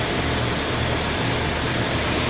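The spindle of a Trak TMC7 vertical machining center runs at 1,000 RPM with a loud, steady mechanical whir and a low hum, close and constant with no talk.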